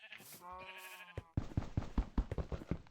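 A Minecraft sheep gives one wavering, nasal bleat up close, followed by a run of quick soft tapping and shuffling sounds from the game.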